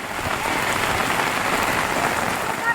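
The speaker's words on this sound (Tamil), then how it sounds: "கனமழையால் சாலைகளில் மழைநீர் பெருக்கெடுத்து ஓடியது." Heavy rain pours down in Karur, Tamil Nadu, hissing densely and steadily on the ground, loud and close and unbroken throughout, with no voices.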